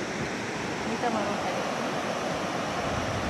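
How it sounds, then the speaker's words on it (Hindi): A river flows below a hanging bridge, giving a steady, broad rush of water that holds evenly throughout at moderate loudness. "और नीचे खूबसूरत नदी।"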